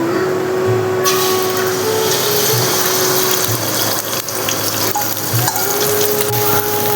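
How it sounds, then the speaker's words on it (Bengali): Beaten egg seasoned with salt fries in a pan for fried rice, a loud, continuous sizzle with scraping stirring strokes throughout and a low steady hum underneath. "ডিমটা এখন আমি ভেজে নেব।"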